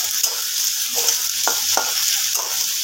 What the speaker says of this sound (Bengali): পেঁয়াজগুলোকে ভেজে নেব।